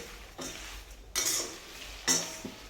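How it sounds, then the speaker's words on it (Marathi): Curry leaves are dry-roasted in a pan while being stirred for a Kerala-style masala, with three brief scraping, rustling stirs and light crackle, close and quiet. "कढीपत्ता हा वेगळा भाजून घ्यायचा आहे, म्हणजे तो जळणार पण नाही आणि छान भाजला पण जाईल"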